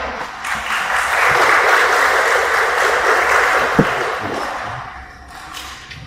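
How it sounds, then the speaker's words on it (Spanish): An audience at a medical lecture on immunohematology applauds a doctor, a broad even clapping that swells and then fades out, with a single thump near the end. "Reciban con fuertes aplausos al doctor José Fuentes Rivera Salcedo."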